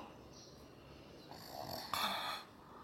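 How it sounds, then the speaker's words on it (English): Deep, slow breathing of a relaxed sleeping man, a soft snoring inhale swelling to a faint rasping peak and then easing off, quiet and close with no talk over it. "Now he's breathing more deeper."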